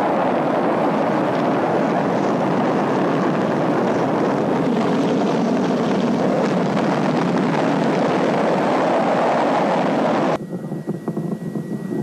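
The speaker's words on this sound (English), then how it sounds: "ignition sequence start" Apollo 11 Saturn V rocket launch in 1969, a loud, continuous, broadband roar that rumbles steadily for about ten seconds before it abruptly drops away.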